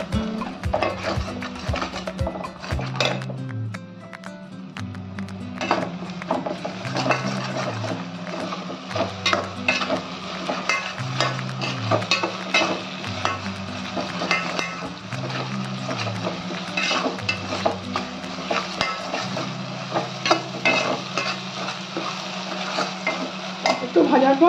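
A paste of ginger, garlic, onion and green chili fries with onions in a pan for Kashmiri chicken, giving a steady close sizzle broken by repeated stirring scrapes, with low background music throughout.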